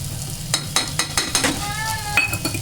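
Chilli powder, coriander powder, garam masala and cumin powder go into frying ginger and garlic and get stirred, with a steady sizzle under repeated sharp spoon-on-pan scrapes and clinks at a quick, uneven rhythm, close and clear.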